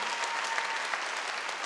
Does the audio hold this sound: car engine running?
no